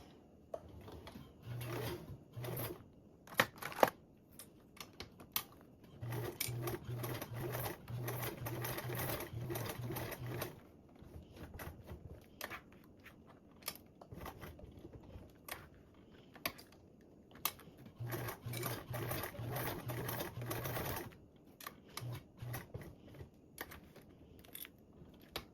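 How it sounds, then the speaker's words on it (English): A sewing machine top stitches along joined seams on a duffle bag, running in several bursts of rapid mechanical whirring separated by quiet pauses and small handling clicks, close and fairly soft. "So you're going to top stitch along your joined seams"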